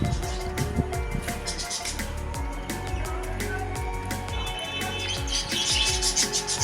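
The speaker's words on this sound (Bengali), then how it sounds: "এখানে সুন্দর একটা ছোট্ট পাখির একটা খাঁচা আছে, সেখানে সুন্দর সুন্দর বদ্রি পাখি আছে" Budgerigars in a small cage at a hotel in Bakkhali chirp and twitter continuously, a busy, fairly close chatter of rapid high calls.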